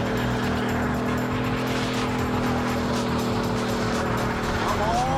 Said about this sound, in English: Time to smoke the tires.